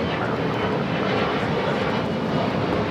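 An Italian-made aircraft roars on its takeoff roll from runway 25 at Los Angeles International Airport, a loud, steady engine rumble heard from nearby with no talk over it.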